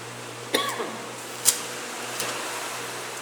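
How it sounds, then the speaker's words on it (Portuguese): A woman coughs a few times in a quiet room over a steady low hum, with a short sharp burst near the start and a louder one in the middle. "Essa tosse é muito chata, mas tudo bem."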